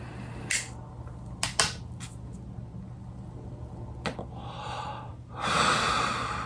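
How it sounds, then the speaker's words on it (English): A person smokes a cigarette, taking sharp breathy drags followed by a long, audible exhale near the end, close up, with a low steady hum underneath and no talking. "Let's have an old cigarette."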